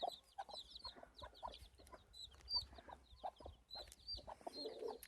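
Chicks on a small hobby farm cheep and cluck in quick, scattered bursts, several birds close by with a soft low background hum and no talk.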